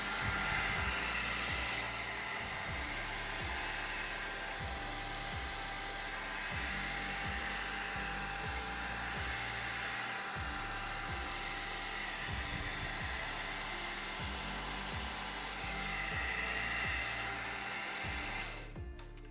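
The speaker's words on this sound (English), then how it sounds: "I'm just going to use the hairdryer." A hair dryer blows continuously at close range, drying watercolour paper, a steady whooshing roar with a motor hum underneath, cutting off right at the end.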